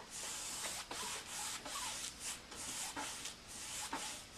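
Paintbrush strokes laying an acrylic base coat on a surface, a steady close scratchy brushing with short repeated swipes and no talk.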